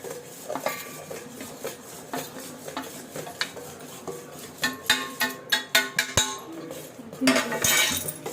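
Gram flour stirred continuously in a metal pan for Mysore pak, with clinking and scraping of a spoon against the pan, quiet at first and then a quick run of louder rhythmic strokes near the end.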